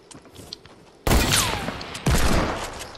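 Two loud sniper rifle shots from the video game Fortnite, about a second apart, each a sharp blast with a ringing tail, over faint game ambience.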